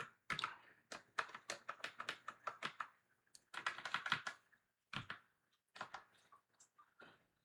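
Rapid bursts of keystrokes on a computer keyboard, clattering in uneven runs with short pauses between, close and clear with no talking.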